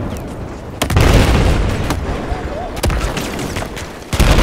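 Shotgun slug blasts and explosions in the video game Battlefield 4, loud and close: three sharp booming shots spaced about 1.5 seconds apart over a dense rumble of battle noise, with players talking over it.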